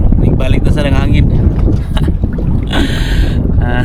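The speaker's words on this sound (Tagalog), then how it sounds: "Oh nagbalik ta sa hangin." Strong wind buffets the microphone during kayak fishing on open water, a loud continuous low rumble with gusts, while a person talks over it.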